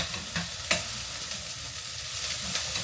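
Onions frying and being stirred in a pan, a steady close sizzle with a few sharp scrapes or clinks of the utensil against the pan.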